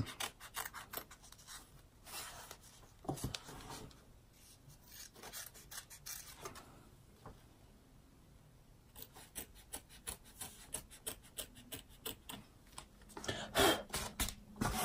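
Scissors trim fabric close to the seam of a patchwork zipper bag, giving a series of close, crisp snips and rasping cuts in short bursts separated by brief quiet pauses.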